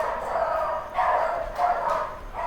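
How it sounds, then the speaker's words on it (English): Several dogs barking at passing car headlights at dusk outdoors, a few bursts of medium-distance barking and yips in a loose, irregular rhythm over a quiet background. "There go my dogs. They saw headlights."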